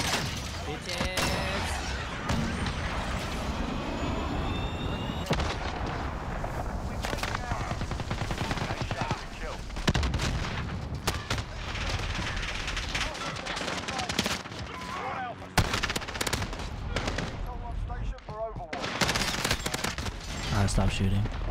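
Call of Duty Modern Warfare gunfire on the Shipment map, dense rapid automatic bursts and single shots overlapping almost without pause, loud and close, with players talking over the shooting.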